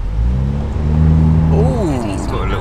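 BMW Z4 engine droning steadily and then rising in pitch as it revs and accelerates, loud and close from inside the car, with a voice speaking over the later part.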